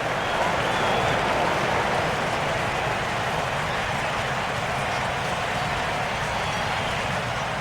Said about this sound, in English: A little bit of a mock cheer there.